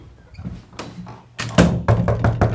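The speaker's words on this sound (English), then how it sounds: "I'm going to knock on this hallway door." Knocking on a hallway door in a home during dog training, heard as a few soft taps early on, then a louder cluster of sharp raps close by, with a dog's paws or movement faintly underneath.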